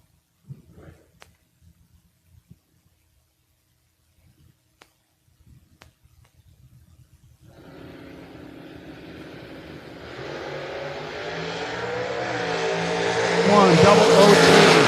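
Drag race cars launching at a Super Pro bracket race, a 66 Chevy II against a Firebird: after a quiet, clicky start, loud engine roar swells and climbs steadily in pitch and volume until the end, with a voice briefly heard early on.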